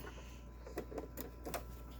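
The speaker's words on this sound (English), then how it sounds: "I'm going to put it in the sewing machine." A sewing machine stitching fabric, with a steady motor hum under a series of sharp mechanical ticks that come in small uneven bursts, close by.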